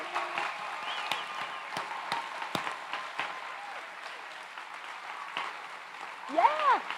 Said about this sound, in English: let's start by giving our amazing Stevens graduates the biggest round of applause anybody